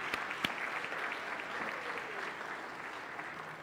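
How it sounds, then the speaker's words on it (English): An audience claps steadily for a nurse who has served fifty years, a broad wash of applause that stays even and fairly faint from start to finish, with a few sharper single claps near the beginning. "Mabel deserves a clap."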